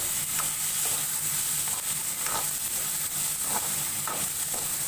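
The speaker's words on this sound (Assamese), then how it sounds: "গোটেইখিনি লৰাই দিব।" A steady frying sizzle and hiss of cabbage and tomato in a pan, with periodic scraping strokes of stirring repeating about every half second to second. No talking.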